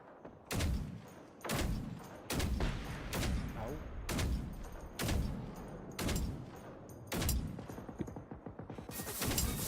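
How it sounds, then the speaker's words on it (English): Enemy gunfire in the open-world shooter Generation Zero cracks out in sharp, evenly spaced bursts roughly every second, loud and close, with a faint voice reacting between shots. "he's shooting at me now"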